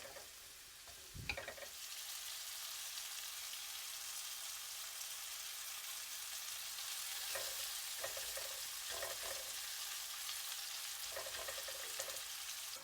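Mushrooms sizzle in a pan for chicken Marsala, a dense, even frying hiss broken by a thump as they go in and a few light scrapes of stirring, with no speech.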